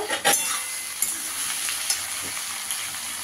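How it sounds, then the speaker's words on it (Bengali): Vegetables stir-fried in a pan for an amudi fish chachchari, a steady close sizzle with scraping stirs and a few sharper clinks of the spatula against the pan. "আমার সবজিটা ভালো করে ভাজা হয়ে গেছে"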